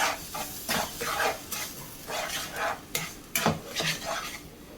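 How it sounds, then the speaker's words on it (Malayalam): Powdered sugar being stirred in a pan to caramelize for pineapple raita, heard as a run of close scraping strokes and light metallic clinks of a spoon against the pan, with a faint sizzle between them. "ഇതൊന്ന് ഇളക്കി കൊടുക്കാം."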